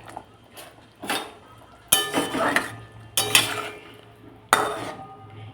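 Hilsa fish stirred in hot oil in a pan, with four sharp metal utensil clanks against the pan at roughly regular intervals over a low sizzle, close and fairly loud.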